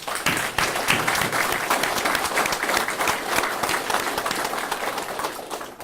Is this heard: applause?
yes